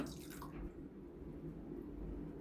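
Homemade Lebanese winter soup with chicken and rice being ladled into a bowl, a brief soft liquid pour and splash over low background hum, close and quiet.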